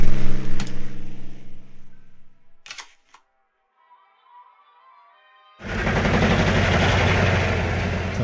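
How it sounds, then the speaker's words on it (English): A howitzer in the WWII card game KARDS fires with a sharp crack that lands after a quiet pause, followed by a loud, sustained rumbling blast. "Bloody howitzer again."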